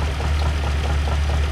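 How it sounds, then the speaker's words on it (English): A 1951 Mercury engine idles smoothly at low revs around 450 RPM just after its first start of the year, a loud, steady, even rumble with no pauses. "that's a reasonable little smooth idle there"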